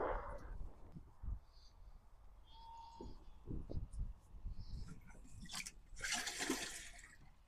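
Water pours and splashes from a watering can onto carrots, onions and potatoes in a vegetable garden, in uneven gushes with a louder rushing burst near the end, while birds chirp faintly in the background.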